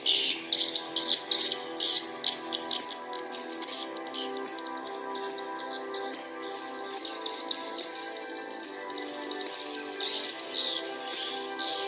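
Rapid electronic chirping and trilling repeats in bursts over a steady tonal hum, the attraction call from an electronic bird-call lure, sounding like synthetic birdsong played fairly close.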